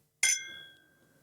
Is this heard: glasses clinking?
yes